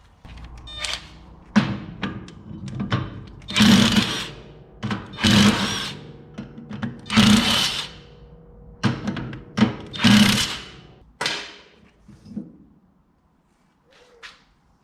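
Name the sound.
undoing bolts to remove brake disc from hub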